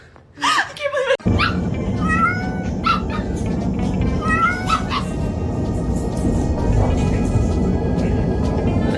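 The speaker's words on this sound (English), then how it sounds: "Oh, that's my cat." A cat meows several times, close and clear, in short rising cries, with people talking over and between the calls.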